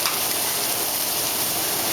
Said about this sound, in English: So we're going to darken the skin of the chicken real good in this frying pan right here.